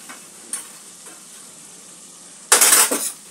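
Spiced masala paste frying in oil for egg curry, with torn green chilies tossed in; a low steady sizzle with faint stirring clinks, then a sudden loud burst of hissing spatter near the end as the chilies hit the hot oil.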